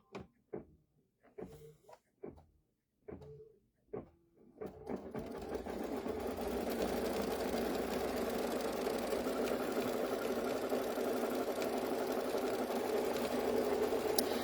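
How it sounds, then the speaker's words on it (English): An embroidery machine sews a tack-down stitch on quilt batting: a few short separate starts, then a steady, fast mechanical whirring hum that runs on alone at a fairly quiet level. "and then I'm going to stitch my tack down stitch"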